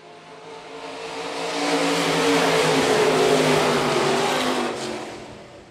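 Stock cars race on a dirt track at Phillips County Raceway during the stock car main event, with a loud engine roar swelling as the pack passes close by, holding steady, then fading away.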